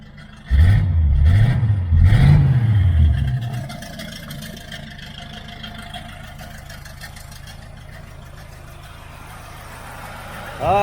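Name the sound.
1978 Chevrolet Nova V8 engine running with new dual exhaust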